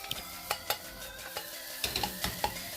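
A ladle smashes and tosses semi-hard rice for crab fried rice in a pan. Sharp metallic clanks and scrapes come in an irregular rhythm over a faint sizzle.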